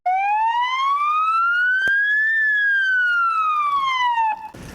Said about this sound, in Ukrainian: посидіти в службовій машині, вімкнути сирену та скористатися гучномовцем